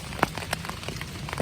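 Rain falls steadily in Virginia woodland during muzzleloader deer season, a soft continuous patter with a few sharper drips and taps standing out at close range.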